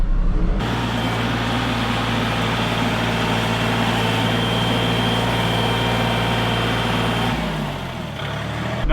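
Kubota Grand L tractor engine running loud and steady at raised revs with the throttle advance engaged, a constant heavy drone that drops in pitch and eases off near the end.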